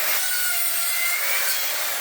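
A saw rasps continuously through a wooden pallet, loud and close, giving a bright, dense grinding roar with no breaks and no voices.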